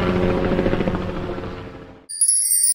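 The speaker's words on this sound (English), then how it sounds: "Police helicopter." A police helicopter flies overhead, its rotor producing a steady throbbing whir that fades gradually over about two seconds before cutting off.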